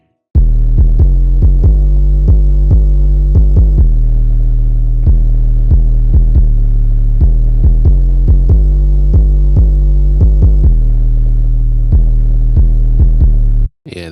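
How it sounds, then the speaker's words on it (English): Deep, booming 808 bass drum hits in a programmed beat, a heavy low sub-bass throb pulsing in a steady, syncopated pattern, very loud and alone, then cutting off abruptly. "We have another 808 for some variations"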